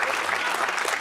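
Thin, polite applause from an awards audience as The Sea Beast is named among the Oscar nominees, a steady wash of clapping throughout the brief moment.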